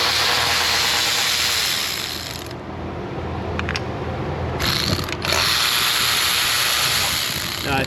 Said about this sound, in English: we pull these bolts out.